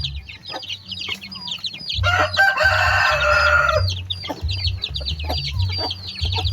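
Month-old chicks and grown chickens cluck and peep busily while eating, a close, dense flock chatter with one louder crowing burst in the middle.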